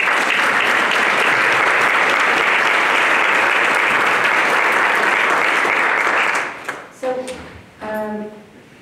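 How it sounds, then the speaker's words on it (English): An audience bursts into dense, sustained applause after a performance, loud and steady for about six seconds before fading into scattered claps while someone starts to speak. "can we give a round of applause to the"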